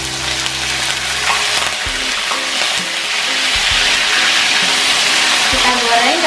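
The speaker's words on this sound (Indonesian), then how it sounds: "sekarang kita mulai menggoreng ikan asinnya. Panaskan minyak, kemudian kalau udah panas langsung aja digoreng." Salted jambal roti fish fries in hot oil, a dense, steady sizzle with crackling that swells slightly over time, punctuated by occasional scraping stirs of a utensil against the pan.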